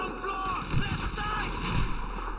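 Gunfire in the video game Call of Duty 2, a couple of sharp shots over steady game noise and a dense battle rumble, close and loud, with a voice talking underneath.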